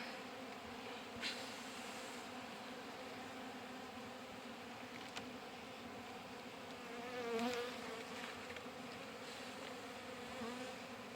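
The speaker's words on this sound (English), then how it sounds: "This whole hive here is just packed with bees." Honeybees in a packed hive with a drone-laying queen hum and buzz continuously in a dense, droning mass, steady and fairly quiet, with a few individual insects passing closer.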